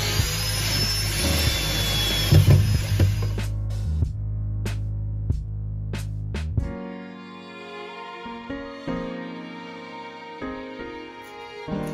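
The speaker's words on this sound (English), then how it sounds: "I like to use Craig screws whenever I can, and it's a perfect opportunity when we've got an apron like this" A power drill drives pocket screws into the apron of a traditional-style wooden wardrobe, with a sustained loud whirring run broken by short bursts, then quieter ticks and knocks of the work afterward.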